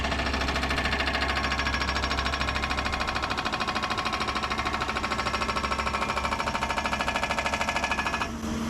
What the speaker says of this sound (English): They brought a jackhammer in to get rid of these rocks.